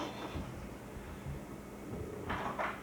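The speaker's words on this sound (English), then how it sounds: "Karen, open the door." A door is pulled open, a faint wooden clunk and slide set against a low hum of room noise, distant and quiet.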